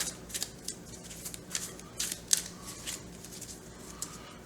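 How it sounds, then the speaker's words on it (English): A deck of game cards being shuffled by hand, soft quiet riffling and snapping bursts at an irregular pace, close by with no talking. "Alright, shuffle that up."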